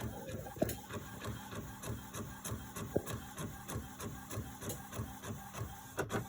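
A sublimation printer runs a print job, its head shuttling back and forth in a steady, even mechanical rhythm of repeated passes, close and clear with no talking.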